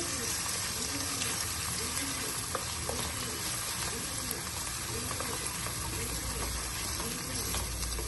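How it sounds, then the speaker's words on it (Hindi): Ginger garlic paste fries in a pan for a Masoor dal, giving a steady broadband sizzle with faint scraping stirs throughout, close and continuous. "इसको भी हल्का सा हमने गोल्डन कर लेना, भून लेना अच्छे से।"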